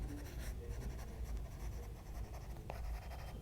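Pen writing on paper during a Class 7 maths lesson on perimeter and area, a steady, close scratching that runs without pause for several seconds, with no talk over it.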